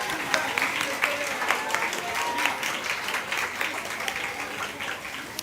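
A seated audience at a career guidance event applauds a teacher, a dense patter of many hands clapping steadily at moderate distance, with faint voices murmuring underneath.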